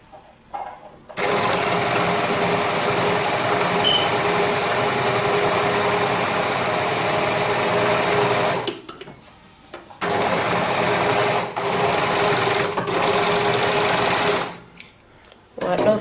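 An overlocker serging fabric for a prayer garment runs in loud, fast, buzzing bursts, a long continuous run followed by two shorter ones separated by brief pauses, close up with no talk.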